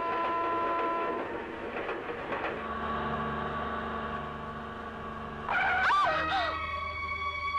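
A train rumbles along steadily with droning mechanical tones and faint rattling, rising briefly into a louder squealing, whining stretch before settling back.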